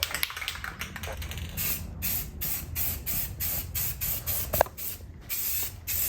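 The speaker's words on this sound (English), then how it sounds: "we're gonna go ahead and paint these flat black" Aerosol spray paint hisses steadily as Volkswagen Beetle wheels with five-lug rims are coated flat black in a garage, a near, continuous spray broken by short pauses and small knocks.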